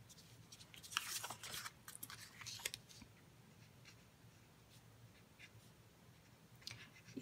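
Quick scratchy strokes of a marker coloring butterflies on a paper card base in short bursts, then quieter intermittent rubbing; close and fairly soft, no talking.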